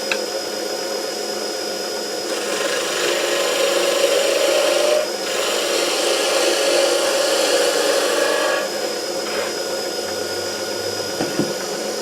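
Wood spinning on a lathe while a hand tool is pressed and rubbed along it, giving a steady abrasive scraping rasp under a constant mechanical whine, strengthening for several seconds and then easing off.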